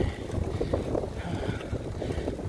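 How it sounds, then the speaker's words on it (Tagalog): Wind buffets the microphone out on the water in a steady low roar with gusty fluctuations, likely aboard a boat, with no clear voices over it. "Ang hangin."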